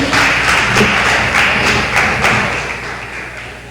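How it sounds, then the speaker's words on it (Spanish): Loud applause breaks out at a Spanish-speaking gathering, with heavy thudding claps and rhythmic bursts standing out before the clapping gradually fades toward the end. "Un aplauso para ellos."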